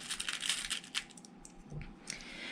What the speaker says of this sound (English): And then I'm going to set a rivet right through that hole.